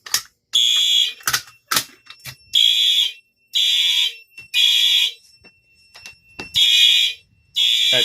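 A loud fire alarm system sounds during a test in repeated bursts of harsh electronic tone, each lasting about a second, with short sharp clicks and pauses between them and no talking.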